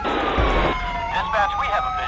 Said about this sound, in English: Now let me turn off those sirens.